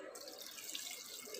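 Water pours steadily into a pressure cooker holding tamarind water for a sev puri recipe, a soft continuous splashing trickle heard up close and faint.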